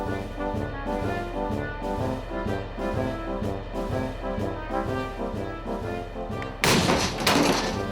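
Hydrogen released from acid and zinc nails ignites inside a tin, producing a sudden loud bang near the end after a stretch of rhythmic background music.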